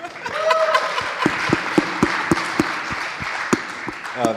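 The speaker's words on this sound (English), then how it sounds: "A clap for Michael, please." Panel audience members at a Lightning payments conference clap for a speaker, with distinct, evenly spaced loud claps over a softer bed of scattered applause, and a voice briefly heard early on.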